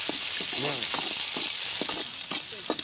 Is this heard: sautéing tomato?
yes